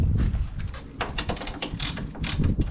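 Ratcheting clicks from a wrench tightening a fitting on a 2002 Toyota Highlander radiator after anti-seize is applied, a series of short metallic bursts with irregular rhythm over low background rumble, close and fairly loud, no talking.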